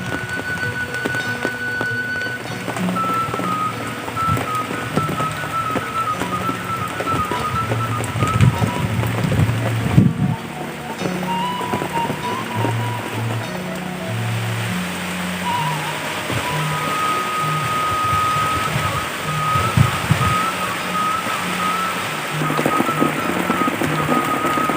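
Heavy morning rain pours down on a remote Sundanese village, drumming steadily on a hut roof with splashing runoff, loud and continuous throughout.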